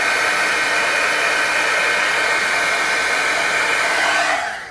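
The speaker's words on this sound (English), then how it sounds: "I'm going to speed it up with a heat gun." A heat gun blows steadily and loudly at close range, drying a light coat of rubber cement in a craft setting, running continuously before cutting off at the very end.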